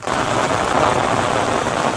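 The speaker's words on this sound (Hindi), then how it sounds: "खड़े खड़े बरसात आ गई, एकदम से कश्मीर की तरह यहाँ एकदम से बारिश आ जाती है" Heavy, steady rain pouring down suddenly close by in a Himachal hill village, a continuous dense hiss with no voices.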